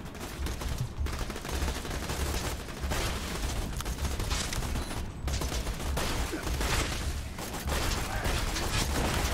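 Dense automatic gunfire in the Borderlands 2 video game, rapid continuous bursts of shots with brief pauses, loud and close with mechanical clatter layered over the firing.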